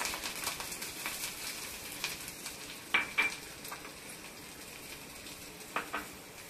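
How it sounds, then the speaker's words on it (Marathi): Finely chopped onion drops into hot oil with curry leaves for prawn masala, setting off a steady close sizzle with a few sharper clatters of stirring. "फोडणीसाठी कांदा टाकूया."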